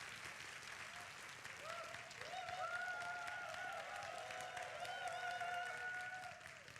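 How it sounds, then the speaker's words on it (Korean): A church congregation at a Korean youth worship service applauds in a sustained, fairly distant wash of clapping while a few voices cheer and call out over it. The clapping swells in the middle and tapers slightly at the end. "우리 이 자리에 함께 하신 하나님께 영광의 박수 올리도록 하겠습니다."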